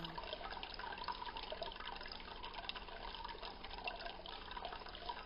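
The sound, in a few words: small water fountain trickling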